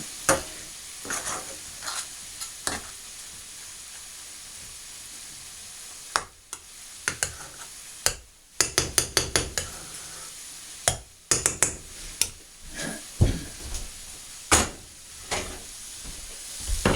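Meat frying in a pan for curry rice while a spoon stirs it in scattered bursts, scraping and clinking against the pan over a steady sizzle, close by with no talk.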